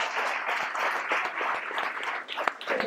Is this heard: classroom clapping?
yes